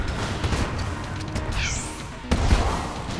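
Explosions and gunfire from the RPG in the bullet-hell game Enter the Gungeon, a dense, continuous barrage of bangs and booms with a sharper blast near the end.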